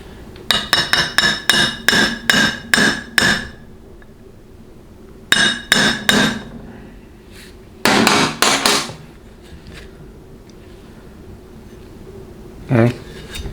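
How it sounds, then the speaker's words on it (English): A hammer gently taps a check ball into a 6L80 transmission pump, making sharp metallic clinks in quick runs of several taps, then a few more strikes after pauses, close and clear. "you're going to gently tap it and seat it in place"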